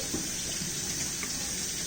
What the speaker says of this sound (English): Let me just wash my hand a little so I can keep experimenting.